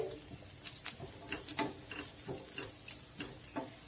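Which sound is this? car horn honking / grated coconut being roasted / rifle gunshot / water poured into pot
grated coconut being roasted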